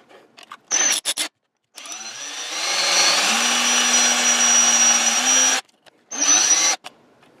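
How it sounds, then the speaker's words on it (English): A power drill drilling out screws whirs in short bursts, then runs in a long, steady grinding stretch, stops, and gives one more brief burst. "Let me try drilling out these screws again."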